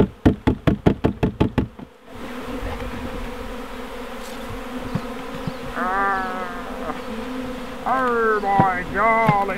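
A dense swarm of bees on a trailer hums continuously after a rapid series of about nine sharp knocks at the start, with a voice briefly speaking over the buzzing later on.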